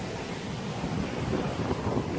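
Steady broadband wind rushing and buffeting across the microphone, continuous and fairly loud with no voices.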